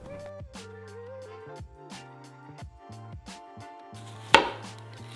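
Onion diced with a knife on a cutting board, a series of crisp chops in uneven rhythm, fairly quiet and close, with a sharper louder knock near the end over a faint steady background hum.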